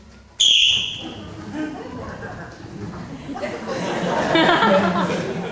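A referee-style whistle gives one sharp, loud blast near the start, then laughter and chatter from an audience fill the rest, growing busier toward the end.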